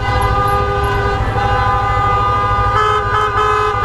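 Sustained, loud honking horn blaring steadily in a village during a wedding, a continuous tonal blast with no voices over it.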